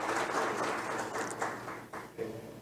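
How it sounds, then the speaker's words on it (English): Audience applause at a conference talk on internet infrastructure, a fairly quiet, diffuse patter of clapping that fades unevenly over a couple of seconds. "A round of applause for him."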